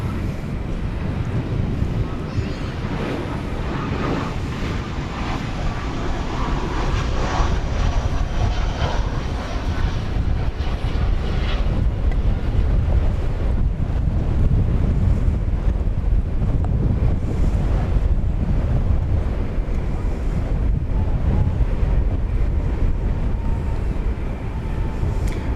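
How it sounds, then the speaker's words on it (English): A Frontier Airbus A320 arriving from Denver at Dallas Fort Worth gives a steady, broad jet roar that holds for the whole stretch, mixed with rushing wind buffeting the microphone. "Frontier 3966 from Denver, an Airbus A320"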